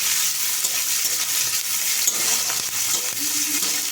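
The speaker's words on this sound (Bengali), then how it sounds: "পেঁয়াজটা হালকা করে ভেজে নেব।" Chopped onion with slit green chillies frying in oil in a pan for prawn malai curry, a steady loud hiss of sizzling with faint stirring scrapes, continuous and close, no talking.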